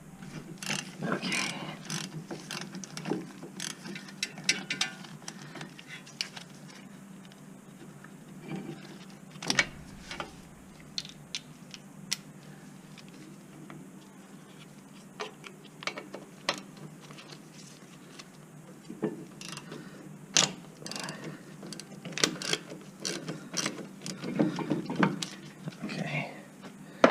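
Milwaukee power ratchet loosening T45 brake bolts on a Lincoln Navigator, with repeated close, loud bursts of mechanical ratcheting and clattering over a steady background hum and scattered clanks.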